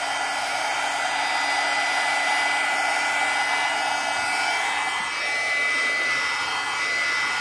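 A heat tool blows hot air steadily onto tulle to burn and darken it for a junk journal, a loud continuous close whir with a slight dip in pitch midway and no talk.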